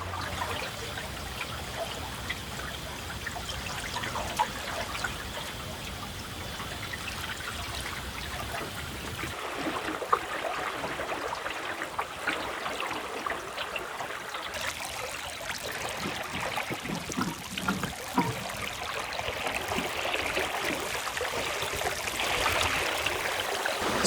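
Water ripples and trickles continuously beside a small dinghy, a steady close lapping wash with faint splashes that grows slightly brighter toward the end, with no voices.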